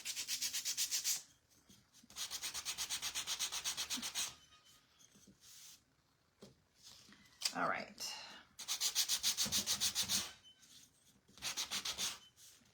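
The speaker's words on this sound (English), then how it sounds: "Almost done with the sanding." Hand sanding on wood for a Christmas Santa craft kit, several long rhythmic bursts of scraping strokes with pauses between, close by; a brief spoken word in one gap.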